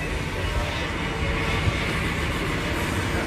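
A PATH train rumbles at Hoboken Terminal with a steady, dense roar of rail and wheel noise, moderately distant and continuous, with no voices.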